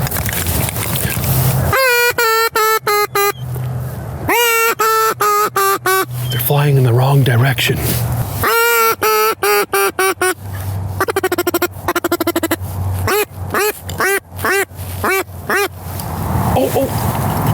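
Mallard ducks quack in repeated nasal bursts, close and loud, over a foggy marsh during a duck hunt, while someone talks between and over the calls.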